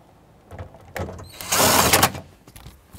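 Plastic knee panel on a Chevrolet Express van being pressed into place, its top clips sliding into body slots with a cluster of close creaks, scrapes and snaps that builds to a louder grinding push near the middle before settling.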